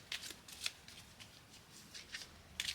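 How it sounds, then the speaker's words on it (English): Paper bills are shuffled by hand into a cash-stuffing savings bank, giving a series of quick, crisp riffling flutters in close, quiet bursts with no talking. "let's shuffle these a little bit"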